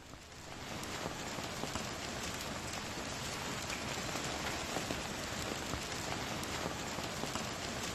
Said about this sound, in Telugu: ఉరుములు మెరుపులతో కూడినటువంటి భారీ వర్షం హైదరాబాద్ను ప్రస్తుతం ముంచెత్తుతున్నటువంటి పరిస్థితి